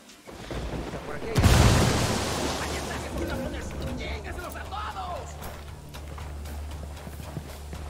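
A grenade detonates in a video game, a single heavy booming blast early on that rolls off into a low rumble over steady ambient game noise.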